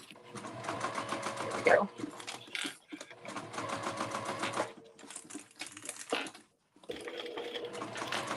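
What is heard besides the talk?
sewing machine stitching an emoji circle bag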